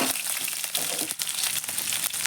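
Onion and curry leaves hit hot oil with mustard seeds for a tomato huli, giving a loud, dense sizzle full of crackles and sharp pops, with no voices.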